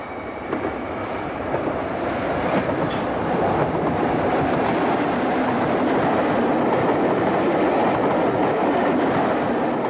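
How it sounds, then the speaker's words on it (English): A British Rail Class 50 diesel locomotive hauls a parcels train past a signal box on the line from Plymouth near Exeter, giving a loud, steady rumble with rhythmic clickety-clack of wagon wheels throughout, with no voices. "a Class 50 on a parcels train heads past the box from Plymouth"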